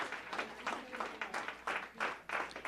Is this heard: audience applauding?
yes